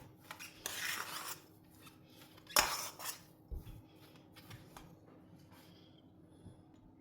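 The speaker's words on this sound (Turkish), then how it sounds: "Bu karışımı karıştırıyorum." A salted potato mixture is stirred in a bowl with a utensil, giving soft scraping and clinking bursts with a louder clatter midway, then fading to quieter scrapes near the end.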